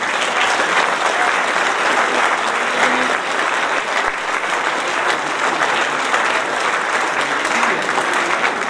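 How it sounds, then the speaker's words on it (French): A New Year's wishes ceremony crowd applauds the elected youth municipal council members, with thick, continuous, loud clapping filling the room from start to finish. "je vous demande d'applaudir nos élus du conseil municipal des jeunes."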